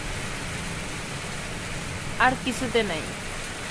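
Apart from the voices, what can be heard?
rain falling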